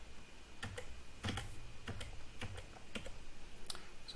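Individual computer keyboard keys pressed while browsing a family photo album, about eight separate clicks at uneven intervals, some doubled, close and crisp over a low steady hum.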